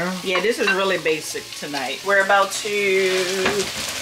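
Chicken fajitas fry in a pan, giving a steady sizzle under a voice that talks over most of it, with the frying heard alone only briefly.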